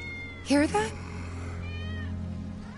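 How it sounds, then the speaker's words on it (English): A cat in the video game Final Fantasy VII Remake gives a single clear, fairly close meow over a steady low ambient hum, with voices in the scene. "That's Wedge's cat."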